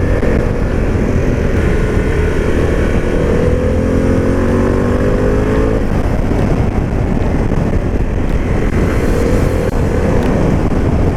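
A Harley-Davidson Pan America adventure motorcycle ridden on an open road, its engine droning loudly and steadily with a shifting pitch as it accelerates, mixed with wind rush.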